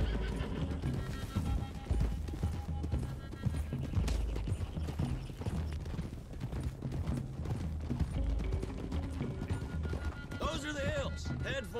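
Horses gallop in the video game Red Dead Redemption 2, with rapid, steady clip-clop hoofbeats and an occasional whinny, while voices talk over the continuous drumming of hooves.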